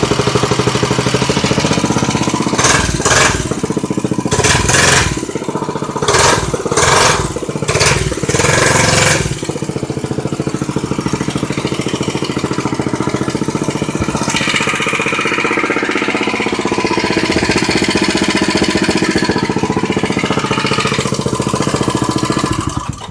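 Razor MX500 minibike converted to a petrol engine, running close by with a steady buzzing small-engine drone and a few sharp revs early on, then settling into a continuous idle.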